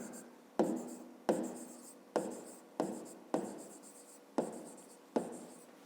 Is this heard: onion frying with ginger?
no